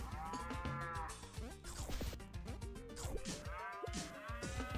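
Cartoonish cow moos from the video game Pizza Tower, sounding repeatedly over the game's busy, continuous music. No talking.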